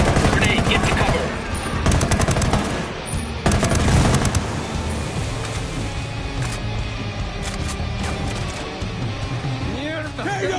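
Dense, continuous gunfire rattles throughout a Ghost Recon Wildlands firefight, with bursts and louder blasts of grenade explosions around the 2 and 4 second marks, while voices shout over the din.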